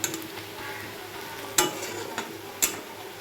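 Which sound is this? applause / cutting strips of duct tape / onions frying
onions frying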